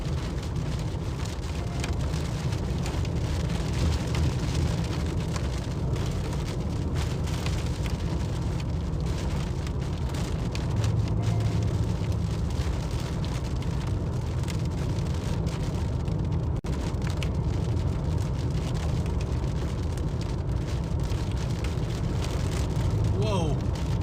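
Hail falls steadily during a Texas storm, a dense and continuous patter on hard surfaces that stays loud and even throughout, with occasional voices and faint rumbling in the background.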